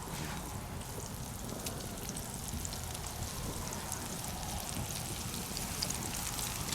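Onion rings fry in oil after fish at a lakeside cookout, with a steady crackling sizzle that stays fairly even and unbroken throughout, faint and alone with no talking.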